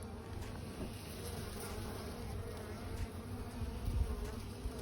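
Soft, steady buzzing of many bees, a low continuous drone with a faint high whine, fairly quiet and close.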